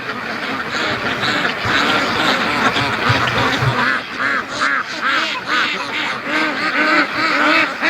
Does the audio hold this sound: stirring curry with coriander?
no